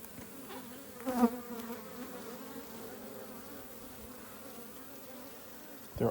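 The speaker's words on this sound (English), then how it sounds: "They seem to be very small bees." Quiet, steady buzzing of small honeybees close by around the hive, with a brief louder buzz as one passes near.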